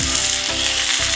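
A salmon fillet fries in a hot pan, a loud, continuous close sizzle with a brief stir or shift in the middle and no talking.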